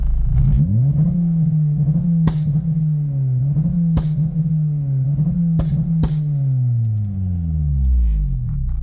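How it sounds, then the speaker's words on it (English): Acura RSX DC5 engine revving steadily near the microphone against a BeeR rev limiter, with sharp exhaust pops and bangs cracking out at irregular intervals over the constant buzzing drone. "as you could hear, it's backfiring and stuff like that"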